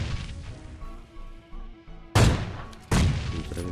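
Two grenade blasts in PUBG Mobile Lite, loud sudden booms with crackling tails about a second apart, following quieter gunfire and game noise.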